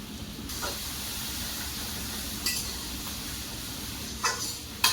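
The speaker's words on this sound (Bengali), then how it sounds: "এদিকে আমার রসুন আর কাঁচা লঙ্কা ভালো করে ভাজা হয়ে গিয়েছে" Garlic and green chillies frying in a pan, a continuous close hiss and sizzle with a few brief sharper spits and bursts.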